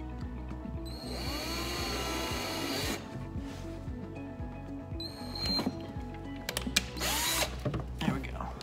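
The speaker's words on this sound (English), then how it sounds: "drill it out and feed the wire through" A power drill whines in short bursts while boring a hole into a Hobie Pro Angler kayak hull, with spin-ups and slowdowns and some handling clatter at close range.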